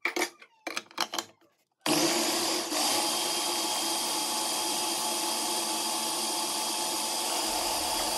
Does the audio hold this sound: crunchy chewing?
no